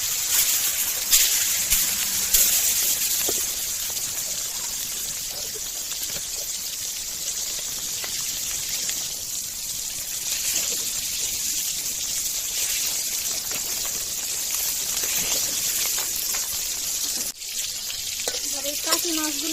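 Taki fish frying in soybean oil in a salted pan gives a steady, close, dense sizzle that crackles without pause, with occasional light clinks from stirring.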